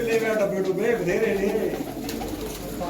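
Large pigeons kept in a loft coo in a low, rolling warble close by, with a voice talking over them.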